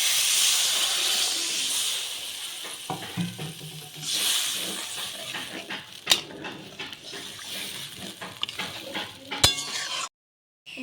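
Water is poured into a pan of mustard and poppy-seed spice paste frying for a fish curry, giving a strong hiss and sizzle that settles into bubbling and stirring, with a few sharp clinks near the end.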